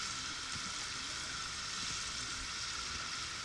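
Pineapple, peppers, mushrooms and onion fry in a pan over a campfire, giving a faint, steady, even sizzle with no break or rhythm.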